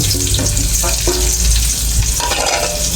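Onion dropped into hot oil in a frying pan, a loud, close, continuous sizzle with crackling bursts and a few stirring scrapes, cooked for a quick sardine and sweet potato leaves dish.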